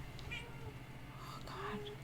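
A house cat gives a couple of faint meows and mewls, low in level over a steady background hum.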